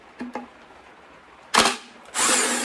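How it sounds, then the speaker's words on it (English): Impact wrench or power tool loosening a tight 30mm nut on a car bracket: two short taps, then a loud burst of rattling drive, a pause, and a sustained loud whirr as the nut gives way, close up. "Let's get this 30mm nut off. It's a bit tight."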